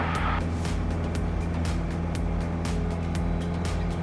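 A light aircraft engine runs at full power during the takeoff roll, giving a steady, loud droning hum with a fairly even pulse and no talk over it.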